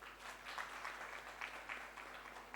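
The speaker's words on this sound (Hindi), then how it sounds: "आप लोगों को ताली बजानी चाहिए" Audience applause at a CSR conclave conference in Jharkhand, faint steady clapping from a crowd in a hall, continuous and distant with no voices over it.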